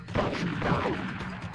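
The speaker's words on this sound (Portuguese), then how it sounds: "Começa com um tiro." A gunshot in the Tarzan PS1 video game, one heavy booming blast with a rumbling tail, loud and dense over game sound.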